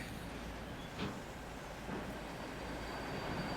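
A train rolls through a station in a railway-building video game set in Leeds, heard as a soft, steady rumble with faint rail noise and no voices.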